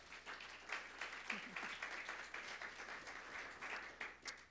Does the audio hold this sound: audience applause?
yes